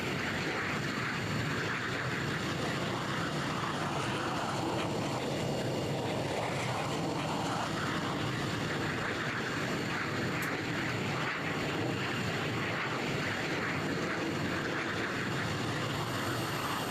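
A small video-game airplane drones on with a steady engine hum, a continuous whirring tone at constant loudness that never lets up, with no voices over it.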